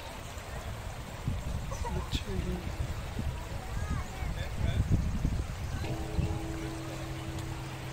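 Waterfall in a botanic garden at the University of Alberta, Edmonton, giving a steady rushing, splashing wash close by beneath someone speaking throughout.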